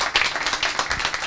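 Audience applause at a meetup, a short burst of scattered hand clapping from a small crowd, moderately close.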